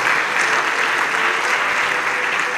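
Church congregation applauding loudly and steadily during a French-language worship service, a dense, continuous wash of clapping with no voices standing out.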